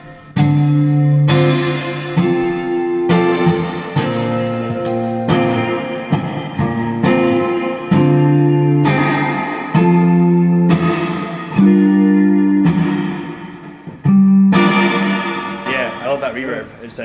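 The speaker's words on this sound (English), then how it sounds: "I love that reverb. It's cavernous." Electric guitar chords ring out with a huge, cavernous reverb, each strum swelling and trailing off into a long wash of echo.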